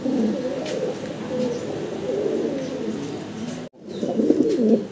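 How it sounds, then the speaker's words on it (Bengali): A pair of Danish pigeons coo in soft, repeated low murmurs close by, one brief gap breaking the steady calling before it resumes. "অসাধারণ সুন্দর একজোড়া ড্যানিশ কবুতর, দোবাজ ড্যানিশ"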